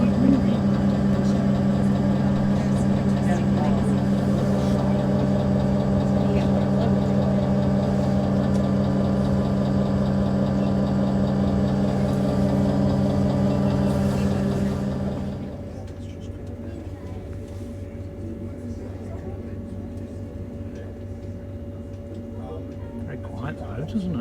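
A canal boat's engine runs at the Falkirk Wheel rotating boat lift, a steady low harmonic drone that drops noticeably quieter partway through and continues as a softer hum, with people talking over it.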